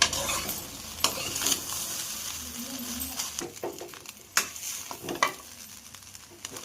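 Egg rice being stirred in a hot pan with salt, chili powder, coriander powder and soy sauce, heard as a spatula scraping and tossing over a constant close sizzle, with no voices.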